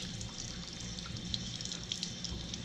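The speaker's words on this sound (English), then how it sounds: "now we're gonna rinse off my Nido," A Nido fidget toy is rinsed under a running tap, a steady close rush of water with small splashes and drips throughout.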